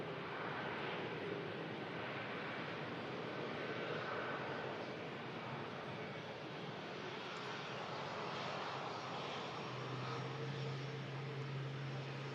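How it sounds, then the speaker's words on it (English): An Airbus A350 jet crossing the active arrival runway at Manchester Airport makes a continuous, distant engine roar that stays level and steady, with a low hum rising near the end. "The Airbus A350 now crossing the active arrival runway of 23 right."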